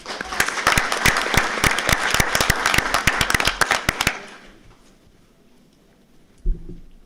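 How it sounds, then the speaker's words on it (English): An audience at a school board of education meeting gives a round of applause for a student, with dense, crisp clapping for about four seconds before it stops, leaving quiet room tone and a brief thump. "Let's give her another round of applause"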